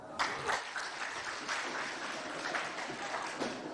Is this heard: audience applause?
yes